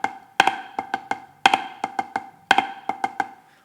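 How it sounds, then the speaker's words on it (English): A cheese rudiment on snare drum, flam accents with a double stroke added on each accent, played solo and close: crisp repeating groups of quick taps, each opening with a strong doubled flam. "to cheese it, we just put a double on the accent."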